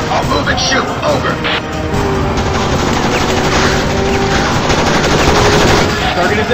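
Automatic gunfire from a highway chase in the video game Road of the Dead, a steady loud rattle of shots running throughout under dense game noise and engine sound.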